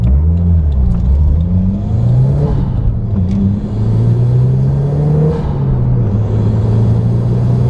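A 1993 Toyota MR2 with an HKS exhaust rumbles loudly and revs up and down continuously up close, its pitch rising and falling through the whole stretch.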